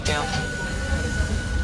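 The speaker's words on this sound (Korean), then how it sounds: "오늘 이 열차를 타고 출발할 겁니다." A train in Hakone, Japan, gives a steady, loud, close rumble with a thin sustained whine riding over it, continuous through the short moment with no clear breaks or clacks.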